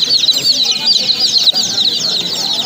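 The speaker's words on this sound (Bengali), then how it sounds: "এখানেও দেশি মুরগি বাচ্চা" Native desi chicken chicks cheep constantly at a busy pigeon market, a dense chorus of high, rapid peeps, close and loud, with faint background noise.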